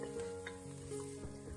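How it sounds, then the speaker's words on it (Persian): Garlic, turmeric and black pepper sizzle steadily in a pot, a soft continuous frying hiss with faint stirring scrapes, close and quiet, with no talk over it. "حالا مقداری زردچوبه و فلفل سیاه اضافه میکنم. تفت میدم تا عطر ادویه آزاد بشه."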